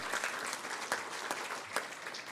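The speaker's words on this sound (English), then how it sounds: "Would you give the men and women of law enforcement and public safety a round of applause as well?" Applause from a civic community gathering honoring law enforcement and public safety workers, a steady crowd clapping that runs throughout with a few sharper peaks, fairly faint and distant.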